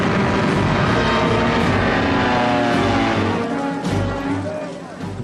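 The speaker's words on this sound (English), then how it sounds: "the Stukas and medium bombers proved devastatingly effective." World War II Stuka dive bombers and medium bombers roar loudly in a dense, continuous engine drone over the Polish campaign, with a narrator speaking over it.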